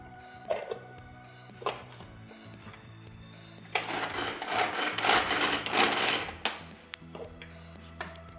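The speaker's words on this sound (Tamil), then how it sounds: "இதே சாப்பரில் கொஞ்சமாக கொத்தமல்லி இலையை போட்டுட்டு இதையும் நல்லா பொடியாக நறுக்கி எடுத்துக்கோங்க" An electric chopper chopping coriander leaves whirs in a loud buzzing burst for a few seconds, with clicks and clatter before and after.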